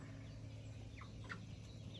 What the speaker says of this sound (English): I think I got 3 roosters there.